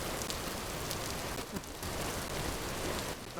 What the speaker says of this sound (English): it's overcast and rainy over here.